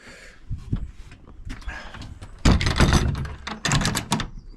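Metal master and slave doors on a solar control cabinet being swung and shut, several clanking thunks and rattles of bolts and latches, close and uneven in timing, with no speech.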